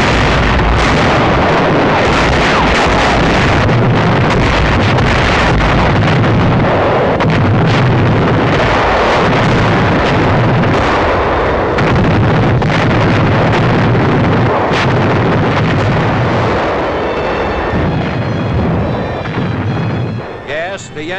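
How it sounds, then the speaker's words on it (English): Big naval guns of a WWII fleet fire on the Rendova shore installations, heard as a dense, loud, continuous roar of blasts and rumble under narration in an old wartime film soundtrack. "Rendova shore installations come within range of our big naval guns."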